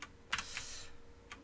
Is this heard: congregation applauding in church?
no